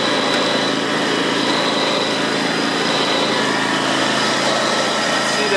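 John Deere X320 lawn tractor engine running with a clutch problem, a loud, close, steady buzzing drone that holds unchanged throughout, with no clear talking.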